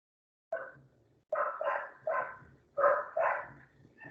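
Dogs barking nearby in a quiet room, about five short, rough barks in an uneven run over roughly four seconds, with no voices over them.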